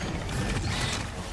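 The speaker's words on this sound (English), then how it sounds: "Reloading." Weapon reloading in Helldivers 2, a dense mechanical clatter and ratcheting click buried in loud, busy game noise throughout the short stretch.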